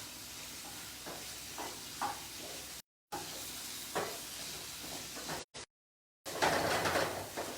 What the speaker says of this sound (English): Again, I'll start frying for another 2-3 minutes